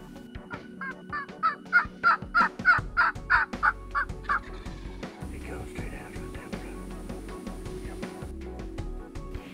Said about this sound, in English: they hardly get set up and more birds start to gobble